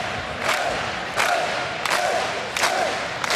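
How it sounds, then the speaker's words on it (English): Spectators at a Hawaii versus BYU men's volleyball match clap in unison, five loud synchronized claps spaced about every 0.7 seconds over a murmuring arena crowd. "And now the claps will once again ensue."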